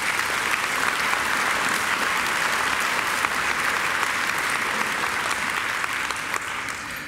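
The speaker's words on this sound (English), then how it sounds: "I think Philip deserves another great round of applause." An audience at a university graduation ceremony claps in a dense, sustained round of applause that fills the hall at a steady level for several seconds, then eases slightly at the end.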